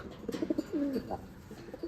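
Soft, rolling pigeon coos repeat close by in a quiet setting, a few short notes then a longer gurgling call.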